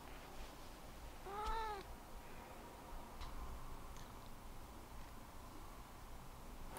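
A house cat gives one short, clear meow partway through, faint and fairly close against a quiet indoor room with small ticking noises, no talking.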